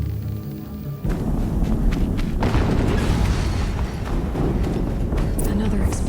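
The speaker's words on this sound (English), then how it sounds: "Another explosion." A loud explosion in the Horizon Zero Dawn video game hits suddenly and gives way to a heavy, sustained rumbling boom, with voices apparently speaking over it.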